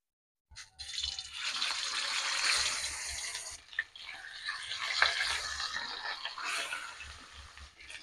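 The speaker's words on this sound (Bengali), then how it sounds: "এবার মাছটা ভেজে নেব।" Turmeric- and salt-coated rui fish hits hot mustard oil in a wok and breaks into a steady, bright sizzle. The hiss flares louder in spurts, dips briefly, then keeps crackling near and alone.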